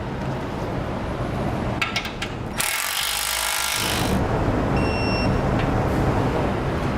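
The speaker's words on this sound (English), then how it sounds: "Next, we'll take a 19mm socket. We're going to tighten all of our hardware" Hardware on a Demco tabless base plate for a 2013 Jeep Wrangler being tightened with a 19mm socket on a power tool, giving a loud continuous mechanical whir with a brief burst of harsher grinding in the middle.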